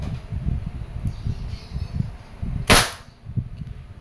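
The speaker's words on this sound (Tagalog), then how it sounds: "Firing." A Umarex Beretta APX airgun, rated around 700 FPS, fires once in a single sharp crack partway through, heard over low steady background rumble.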